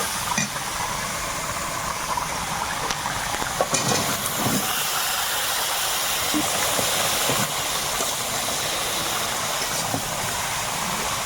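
Pumpkin and potato pieces fry in hot oil in a pan, giving a loud, continuous sizzling hiss with a few faint knocks and clicks scattered through it.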